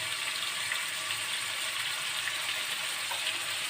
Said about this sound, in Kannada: ಸ್ವಲ್ಪ ಈರುಳ್ಳಿ ಸಾಫ್ಟ್ ಆಗುವವರೆಗೂ ಚೆನ್ನಾಗಿ ನೀವು ಫ್ರೈ ಮಾಡ್ಕೋಬೇಕು.